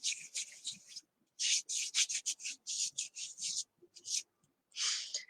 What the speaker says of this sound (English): I'm just going to rub it and get the film off of it